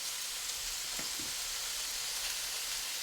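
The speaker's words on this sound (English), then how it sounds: "you just let the soy sauce sit there and sizzle until you don't hear it sizzling anymore" Soy sauce sizzles on fried ramen noodles in a hot pan, a steady close hiss of frying with a faint stir or clink partway through.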